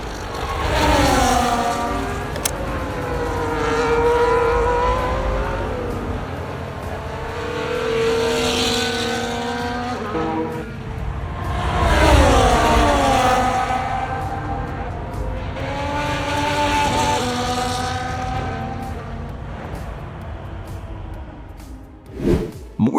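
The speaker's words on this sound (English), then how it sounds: "More than just engine roars and radio drama." Racing car engines in the video game F1 25 whine and rise in pitch over and over, revving up and down in sweeping passes with a steady roar underneath.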